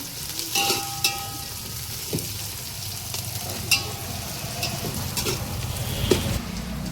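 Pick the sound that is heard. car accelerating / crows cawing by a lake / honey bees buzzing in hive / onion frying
onion frying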